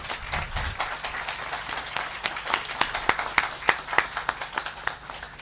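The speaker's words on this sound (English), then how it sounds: "let's thank and give a round of applause for Governor Andrew Cuomo" An audience gives a governor a modest round of applause, with scattered clapping gathering into a close, steady patter that tapers off over a few seconds.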